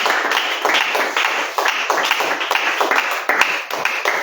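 Church congregation applauding and cheering together, a dense, steady wash of clapping with rhythmic bursts and voices mixed in, loud and close throughout.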